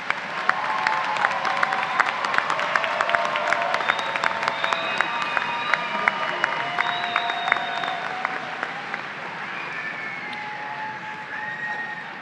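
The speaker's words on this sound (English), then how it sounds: "Let's give our associate and baccalaureate students another round of applause." A graduation ceremony crowd claps steadily throughout, dense sustained applause with a few faint tonal sounds in the background.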